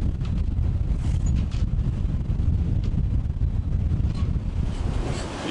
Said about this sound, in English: The wind goes up all the way to 32 knots, true wind, and we're doing about 5 knots.